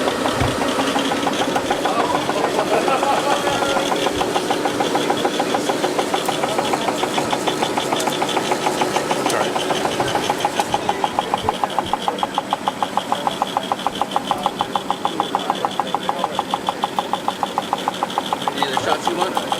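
A NovaCentrix flexographic printing machine for printed electronics runs continuously with a loud, dense mechanical hum and rapid rhythmic clatter, steady throughout at close range.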